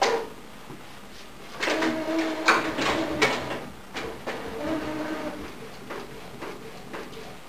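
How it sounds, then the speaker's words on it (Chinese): A UV210B UV printer prints a position line, giving a mechanical whir with carriage movement and clunks that swell in the middle and continue steadily, close by with no talking. "打印 位置线的时候，我们把这个 UV 灯的开关给它按按开。"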